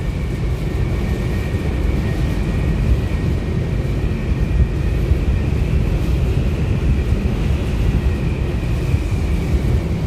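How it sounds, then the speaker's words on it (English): Strong wind buffets the microphone on the open deck of the Staten Island Ferry crossing to Manhattan, a loud, steady roar with a low rumble running through all ten seconds and a faint engine hum beneath. "I'm sure you can hear all the wind right now."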